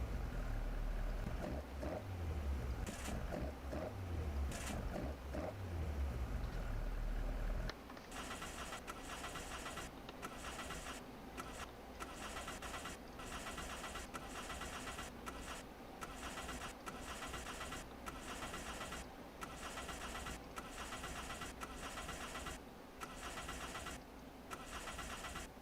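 Exterior idle of Keiichi's 86 car: an engine catches with a rough, loud burst, then settles into a steady, lower, even idle rumble that continues alone, fairly close.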